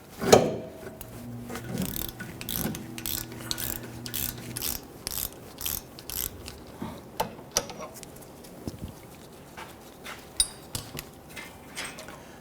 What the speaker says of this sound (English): use a 15mm socket with your ratchet, and we're going to loosen and remove this one wheel hub bolt